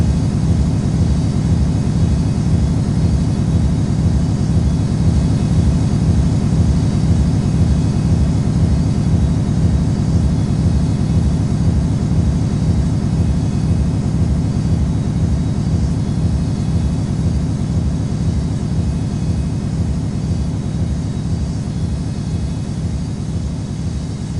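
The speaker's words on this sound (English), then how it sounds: "Cleared for takeoff runway 4 left" A jet airliner's engines roar steadily during takeoff on a runway at Newark airport, a loud, continuous low rumble that holds level and eases off slightly toward the end, with no voices.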